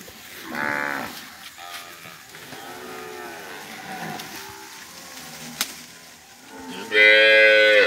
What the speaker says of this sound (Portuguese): Uma surta de boiada que nem essa aqui